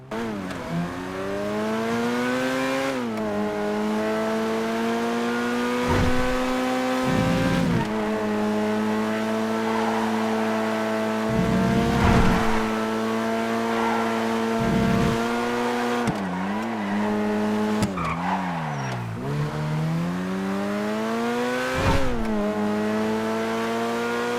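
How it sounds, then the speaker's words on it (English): A Feltzer car in a video game drives and revs hard, its engine climbing through repeated gear changes with rising whines and drops, loud and close for about twenty-four seconds, alone without talk. "it's a very good car because I like the old cars in the game. This is the Feltzer."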